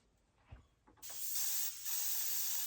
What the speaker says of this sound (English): today I'm going to be using a Pache VL5, which is just a huge gun, huge airbrush